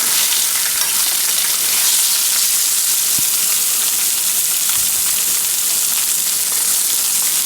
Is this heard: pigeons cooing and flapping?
no